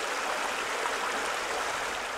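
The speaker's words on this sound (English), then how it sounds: "Maybe a stream or a river." A flowing stream gives a steady, even rush of water across the whole two seconds, fairly soft and unchanging, with no voices.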